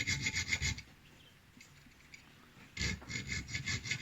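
A hand file rasps across the spine of a steel knife to cut a decorative pattern. Two bursts of close, steady back-and-forth scraping are separated by a quieter pause, with no talk.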